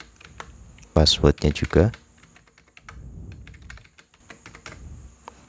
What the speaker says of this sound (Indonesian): ini saya coba ketikkan saja